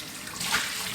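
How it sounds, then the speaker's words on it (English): Water pours into a paint sprayer and washes through it in a steady close hiss that swells slightly partway through, with no talk. "Pour some water down in there,"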